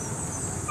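A pet dog whimpers softly in a short, faint burst with a higher whine rising near the end, over steady low background noise.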